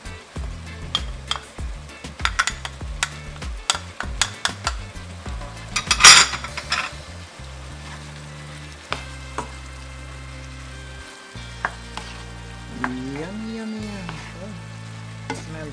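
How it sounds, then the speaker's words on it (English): Green onions, thyme and a whole Scotch bonnet pepper sizzle in a pan, with frequent clinks and scrapes of a utensil stirring through the steady frying noise, near and moderately loud, no voices. "let the seasoning cook for a little"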